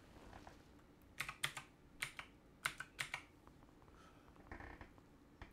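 Credentials typed on a computer keyboard during a Linux upgrade, a short run of quiet, close key clicks in small bursts with pauses between.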